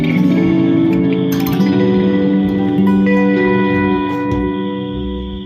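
An electric guitar played through a Boss GT-1 multi-effects unit on a Fender Deluxe amp preset with reverb, sustained ringing notes and chords with a smooth reverberant tail, fading slightly at the end, with no voices.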